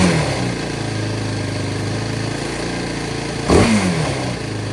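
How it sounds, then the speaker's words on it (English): 2007 Yamaha YFZ 450 ATV engine idling after a tune-up, a steady close putter with a slightly hanging idle and a brief blip of revs partway through. "So it's idling good, but it still has a little bit of a hang."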